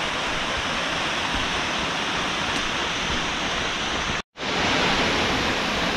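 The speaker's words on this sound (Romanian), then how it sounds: "Cam așa se vede cascada" A waterfall in the Rodna Mountains roars in a steady, dense rush close by, heard alone, with a momentary break near the end before the same loud wash resumes.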